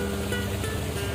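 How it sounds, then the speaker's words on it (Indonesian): Ambience of the Enggelam River in a peat swamp forest, heard from a boat: a steady broadband wash with a constant low engine drone and faint tonal hum, no talking. "Inilah suasana eksotik Sungai Enggelam"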